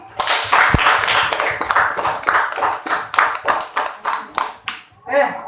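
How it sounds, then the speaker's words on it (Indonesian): Students in a math classroom clap their hands in a rhythmic, fairly loud pattern of distinct claps, with some voices mixed in and a final short cluster near the end. "Sekali lagi untuk supaya kita tidak ngantuk. Tepuk tangan lagi."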